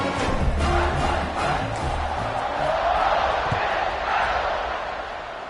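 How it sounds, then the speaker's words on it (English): A stadium crowd in the NCAA 26 college football video game roars steadily throughout, a dense and continuous wash of cheering with a few sharper shouts poking through. "this crowd is feeling themselves after that last drive."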